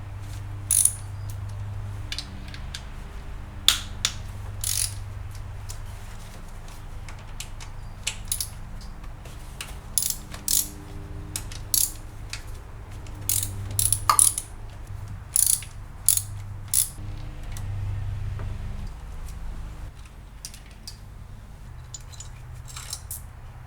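A ratchet wrench removes 10 mm bolts from a GM 3.6L GDI engine in an 08 CTS during timing chain replacement, giving repeated bursts of sharp clicking with short pauses between them and a low hum underneath.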